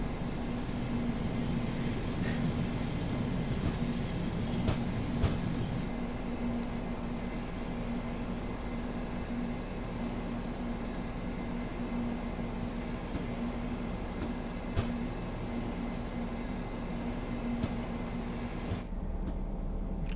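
A BR 218 diesel locomotive hauls cement wagons in Train Sim World 5, a steady low engine drone and rolling hum at moderate level, unchanging throughout with a brief shift partway, no voices.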